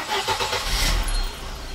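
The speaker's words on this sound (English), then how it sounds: "I start the engine" A 1992 Mercedes 190E 2.0 with KE-Jetronic injection starts up nearby: a brief cranking whir, then the engine catches and settles into a low steady rumble.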